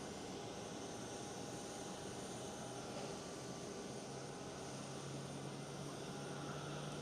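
Qatar Airways Boeing 777-300 jet taxiing at Amsterdam Schiphol airport, a faint distant engine whine and hiss holding steady throughout.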